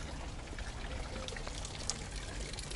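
A small waterfall in the Azores pours and splashes steadily, a soft continuous wash of falling water heard from nearby at low level.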